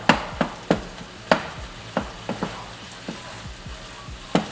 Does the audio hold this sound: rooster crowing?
no